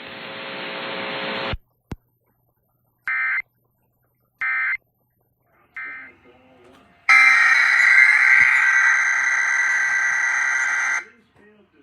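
A NOAA weather radio alarm tone from a hazards weather radio alarm system, heard as a loud, steady, harsh sustained blare near the end, preceded by static bursts and short tone segments.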